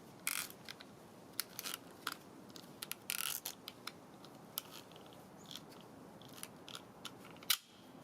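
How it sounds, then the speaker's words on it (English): A hex key ratchets the pulley on a piston ring compressor, giving a series of sharp, close metallic clicks in irregular bursts, quiet but distinct, with no speech. "I use the included hex key to ratchet the pulley to reduce or compress the size of the piston ring compressor."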